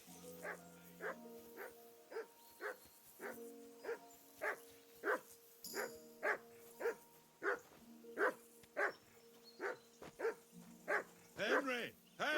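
A dog barking in the video game Kingdom Come Deliverance II: a long, regular series of loud close barks about twice a second, with a few yips and a whine near the end over faint background tones.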